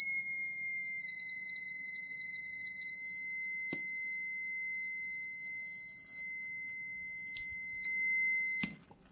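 A steady high-pitched buzzer tone from a simple transistor anti-theft alarm circuit, triggered by a cut thin wire, sounds continuously for several seconds, with a few faint clicks, then cuts off abruptly near the end.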